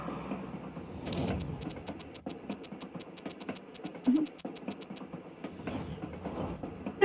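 A train rolls along the tracks in the video game Little Witch in the Woods, with a steady, quiet clickety-clack rhythm and a few soft clunks.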